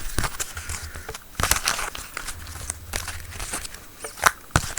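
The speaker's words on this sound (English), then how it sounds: "we'll take our deck and shuffle until we feel guided to stop" A deck of oracle cards being shuffled by hand, giving crisp papery riffles and slaps in uneven bursts, close and fairly loud, with brief quiet gaps between handfuls.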